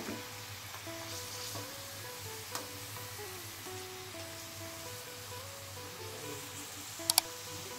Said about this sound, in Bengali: এইরকমভাবে ঘুরিয়ে ঘুরিয়ে আমি ডিমের চপটা ভাজা করে নেব।